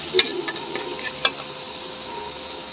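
Paella ingredients with a little sugar toast in a pan after stirring, giving a faint sizzle broken by a few sharp scraping clicks early on, then a quieter steady hiss.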